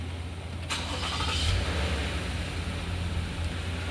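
A 2021 Toyota Camry engine cranks and catches, a sharp starter burst followed by a steady low idle rumble, close and fairly loud with no talking.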